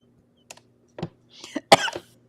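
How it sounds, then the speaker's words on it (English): A person gives a few short coughs, a couple of soft early ones and then a louder, harsher burst, close by in an otherwise quiet room. "then I coughed"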